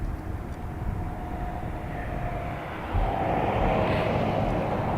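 An airliner powered up on the West Apron at Dublin Airport before departure: a steady, fairly distant engine roar and whine that holds throughout and swells louder about three seconds in.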